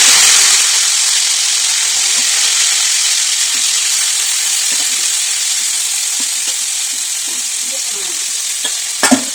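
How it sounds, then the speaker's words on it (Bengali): Chicken pieces for butter chicken sizzle and fry in a kadai, a loud continuous hiss close up, with faint scraping and clinks near the end. "হালকা ভাজা হয়েছে মাংসটা, এবার এটাকে নামিয়ে নেবো"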